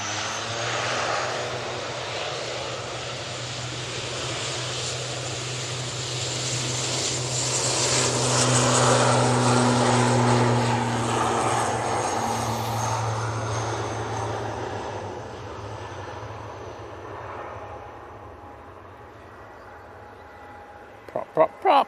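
A propeller airliner takes off from Manchester Airport bound for Belfast, a steady droning engine roar that swells, peaks and slowly fades into the distance, with a few faint knocks at the end.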